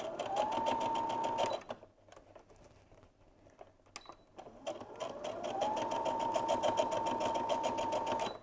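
A sewing machine stitches lavender-filled fabric hearts in two loud, rapid bursts of rhythmic needle clatter, separated by a brief quiet pause with a few clicks.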